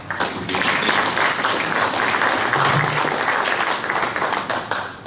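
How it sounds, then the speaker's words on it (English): An audience claps and applauds steadily throughout, a dense, even wash of many hands clapping at once. "let's give them a round of applause"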